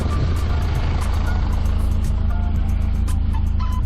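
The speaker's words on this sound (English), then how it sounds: "I'm going to bring the S2000 outside." A Honda S2000 is driven out of a building: a loud, close, continuous low engine rumble with a repeating high beeping over it.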